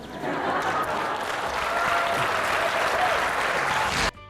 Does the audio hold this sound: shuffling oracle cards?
no